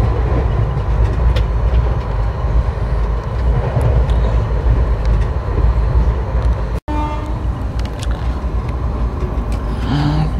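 Indian Railways train rolling past the Kurla Express on a Vijayawada to Howrah run, a loud continuous rumble of wheels and rail noise, steady throughout with a brief sharp dropout partway.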